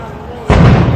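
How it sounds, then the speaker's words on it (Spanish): A gas tank explodes at the Sol Gas bottling plant in Los Ríos, Distrito Nacional, after a leaking valve. A sudden loud broadband blast erupts midway through, following quieter background noise, and sustains a dense roar to the end. "La explosión, causada por el escape de una válvula de uno de los tanques de la envasadora Sol Gas, ocurrió aproximadamente a las 6:20 de la mañana"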